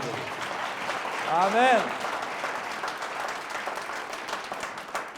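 A church congregation claps loudly for the Lord during a Hindi-language service, a sustained burst of applause with a preacher's voice and a rising sung tone over it.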